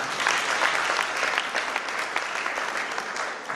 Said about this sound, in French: applaudissons Monsieur Nafian Poitiers.